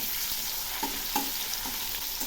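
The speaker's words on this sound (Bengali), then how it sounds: "এখন একটু নেড়ে দিচ্ছি।" Fish frying in hot oil in a wok being stirred: a continuous close sizzle with several soft scraping clicks from the utensil at irregular moments, no talking.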